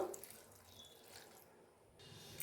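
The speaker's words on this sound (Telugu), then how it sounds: "ఒక గ్లాస్ వాటర్ పోసుకుందాము" Water from a glass poured into a pressure cooker pot holding washed tamarind and chopped onion: a faint, brief splash and trickle lasting a couple of seconds, heard alone.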